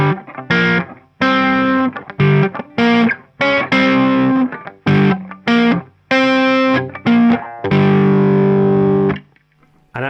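Distorted electric guitar plays a riff, picked with thumb and first finger: loud, crunchy double-stop chords in short rhythmic bursts with gaps, ending on a long sustained chord.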